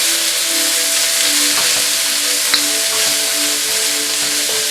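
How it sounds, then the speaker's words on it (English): Vegetables and cabbage stir-fried with yakisoba sauce for chicken yakisoba, a loud continuous sizzle and hiss with faint utensil scrapes, no talking. "Now you take your utensils and you begin stir frying your vegetables."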